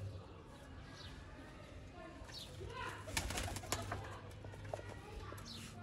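Sialkoti breeder pigeons cooing in a loft, soft repeated coos near and far along with occasional wing flutters, while someone talks over them.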